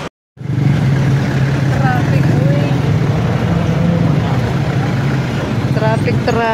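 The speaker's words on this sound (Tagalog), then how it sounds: "Traffic." Manila street traffic near Divisoria, with cars, buses and motorcycles making a loud, continuous engine rumble and hiss close by, while people talk over the noise.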